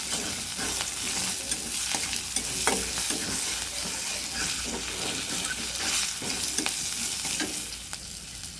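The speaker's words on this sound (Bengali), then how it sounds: "একটু নেড়ে ভেজে নিয়েছি" Ridge gourd and potato stir-fried in leftover fish-frying oil with black cumin and green chillies, a steady close sizzle with repeated scraping stirs throughout, no talking.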